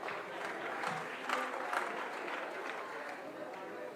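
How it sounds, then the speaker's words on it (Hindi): An outdoor government event crowd at a bicycle distribution in Pinjore Forest Complex bursts into steady, dense applause, many hands clapping together at moderate distance without pause for several seconds. "एक बार हमारी सरकार के लिए जोर से ताली।"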